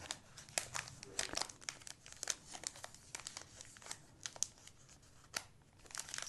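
Paper packaging crinkles and tears during a quiet spring unboxing of books and prints, with irregular close crackles and rustles, soft overall, and no talking.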